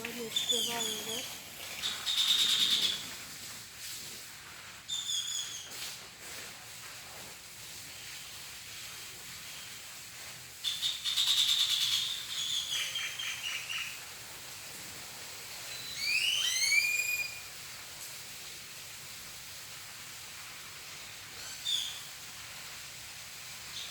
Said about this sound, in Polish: Ale te ptaki ładnie śpiewają, wiesz?